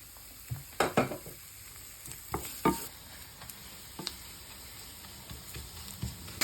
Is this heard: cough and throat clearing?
no